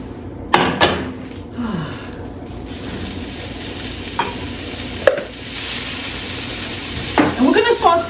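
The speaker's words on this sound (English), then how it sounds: "Oh, I love the sound of sizzling." Steady sizzling of food frying in oil and butter in a pan, with a few clinks and scrapes of stirring and brief knocks on top of the hiss.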